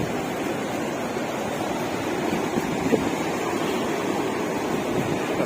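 Sea surf rolls steadily onto the beach at Cox's Bazar, a constant broad wash of breaking waves with some wind rumble and no pauses.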